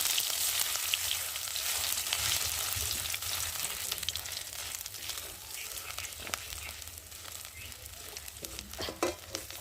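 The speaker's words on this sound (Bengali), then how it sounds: "ভালো করে একটু আদাটা ভেজে নেবো" Grated ginger paste fries in hot oil for a mung dal, giving a steady, dense sizzle and crackle throughout, close and fairly loud, with occasional sharper pops and stirring scrapes toward the end.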